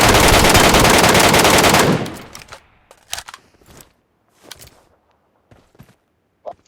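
Sustained automatic gunfire in the mobile game PUBG Metro Royale, loud and continuous for about two seconds, then it cuts off into scattered footsteps and clicks.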